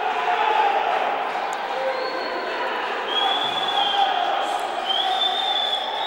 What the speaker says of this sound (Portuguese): Torcida já grita, já comemora.